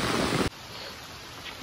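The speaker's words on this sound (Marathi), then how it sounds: "पाऊस मस्त जोरदार आहे" Heavy rain pouring outdoors over green rice fields, a dense, loud roaring wash that cuts abruptly to a softer, steadier patter of falling rain.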